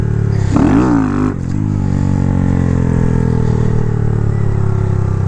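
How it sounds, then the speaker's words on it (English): A motorcycle engine revs sharply for a short burst as the rider pulls a small wheelie, then drops back to a loud, steady running drone, recorded close up. "let's try to see if we can get a little bit of a wheelie, something small"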